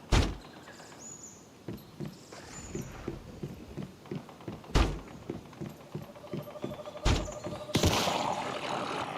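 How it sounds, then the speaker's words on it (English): Building pieces being demolished in the survival game Once Human, heard as a series of close thuds and knocks with a few sharp bright crashes, the sounds spaced irregularly across the stretch. "I'm going to demolish that, and then I'm going to build windowed walls."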